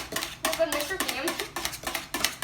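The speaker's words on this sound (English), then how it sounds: "Cameron's whisking it up." A whisk beats banana pudding mixture in a bowl, making quick, rhythmic clinking and scraping strokes at close range, with people talking in the background.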